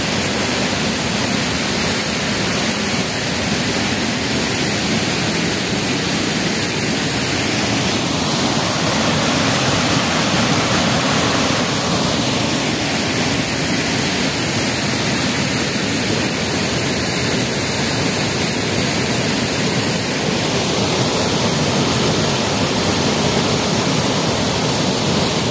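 Maranum Falls in Natividad, Pangasinan pours in a steady, loud broadband rush that fills the whole stretch without pause, with no voices over the roar.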